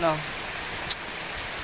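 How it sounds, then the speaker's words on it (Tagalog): Heavy rain pours down as a dense, steady hiss that fills the whole stretch, with a brief voice at the very start. "Ito, ang lakas ng ulan."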